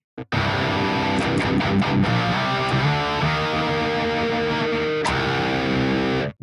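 Electric guitar through a Boss DS-1 distortion pedal into a Fortin Cali amp sim with its cab IR, smooth saturated riffing and sustained chords played loudly for several seconds, with no talking.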